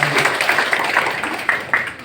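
An audience at a Bawaslu Cilacap gathering claps for a guest called to stand, brisk clustered hand claps with a few sharper ones standing out, fairly close, mixed with some voices.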